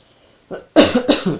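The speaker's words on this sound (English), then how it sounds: "Excuse my cough there." A short throat sound followed by two harsh coughs, close and fairly loud, with no talking.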